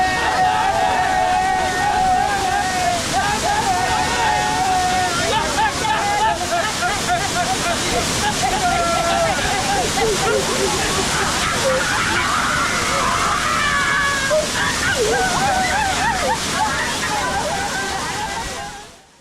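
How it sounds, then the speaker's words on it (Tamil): A group of boys from Usilampatti splashes and shouts under Kumbakarai waterfall near Theni, lively voices and cheers over a constant roar of falling water, busy and loud throughout before fading at the end. "உசிலம்பட்டியில இருந்து வந்த பாய்ஸ் கூட்டம் அருவியை தெறிக்க விட்டாங்கன்னே சொல்லலாம்"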